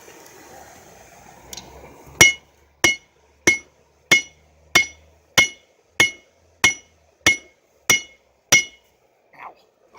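A hammer strikes hot metal at a forge, with about a dozen sharp ringing blows in an even rhythm after a quiet start, each loud and close.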